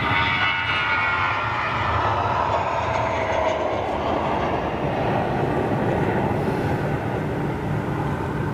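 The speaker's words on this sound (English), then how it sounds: "This is a couple of freighters we're hearing, folks." Boeing 777 cargo freighter jets roar steadily at a distance, a broad rumbling engine wash sustained without break.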